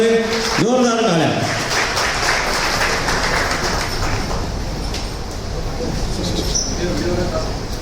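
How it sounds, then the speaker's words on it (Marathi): Applause at a building project ceremony for a slum rehabilitation project in Kurla West, Mumbai, with a crowd clapping steadily in a dense wash under someone speaking over a loudspeaker, fading slightly toward the end. "जोरदार टाळ्यांनी या सगळ्यांचं स्वागत होऊन जाऊ दे।"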